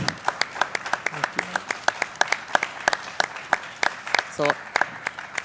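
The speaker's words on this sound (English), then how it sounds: "You can clap for that yeah" An audience at a speedrunning marathon event claps in scattered, sparse applause with distinct individual hand claps, while people talk over it.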